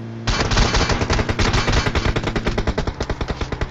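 Rapid automatic gunfire from a shooter video game: dense bursts of sharp, closely spaced shots rattle on steadily for several seconds, loud and close, with no talking.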